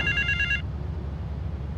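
A payphone rings in GTA III with a short electronic bell trill that cuts off after about half a second, leaving a low game hum.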